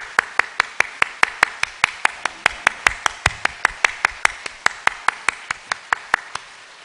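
Congregation clapping in welcome at a church service, a steady rhythmic run of about thirty sharp hand claps, close and clear with no voices over it.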